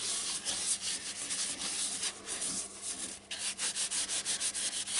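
Wax finish being rubbed by hand into a turned wooden pot on a stationary lathe: close, repeated scratchy rubbing strokes in a quick back-and-forth rhythm, steady and fairly loud, with no voices.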